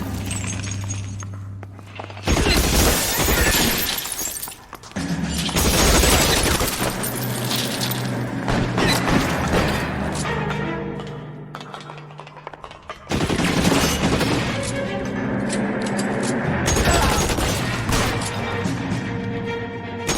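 Gunfire in the video game L.A. Noire: bursts of rapid automatic shots and loud blasts in two main volleys with breaking-glass clatter, separated by quieter stretches of background game sound.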